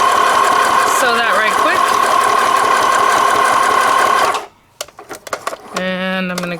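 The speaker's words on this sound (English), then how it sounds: "You just put it in your machine and sew it up, right?" A sewing machine stitching fabric with gold thread hums and rattles steadily for about four seconds before stopping, followed by a few soft clicks and a voice speaking.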